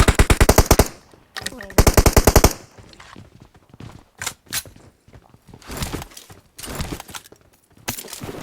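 Automatic gunfire in the mobile battle royale game PUBG Mobile on the Sanhok map, with loud close bursts of rapid rhythmic shots, then scattered single and short volleys, some farther off.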